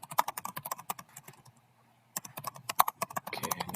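Steady typing on a computer keyboard as a quiz question is entered, with rapid close clicks in two bursts separated by a short quiet pause, loud and alone.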